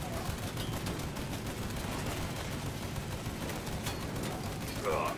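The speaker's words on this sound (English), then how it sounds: "Please stop shooting me" Enemy gunfire in the Mafia III video game crackles in dense, continuous bursts, a rapid rattling fusillade. It stays fairly distant and even throughout, with brief voice-like sounds near the end.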